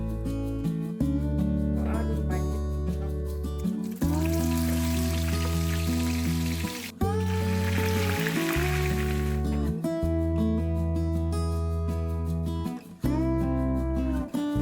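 Nigerian beans fry in a pan with a little palm oil, giving two stretches of hissing sizzle beneath loud, steady background music that plays throughout.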